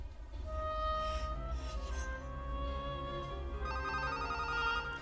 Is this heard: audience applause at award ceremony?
no